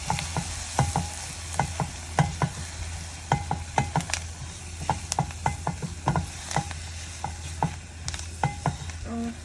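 Croquette mixture being stirred in a frying pan, with a steady sizzle under repeated scraping and clacking strokes of a spoon against the pan, fairly close and with no voices.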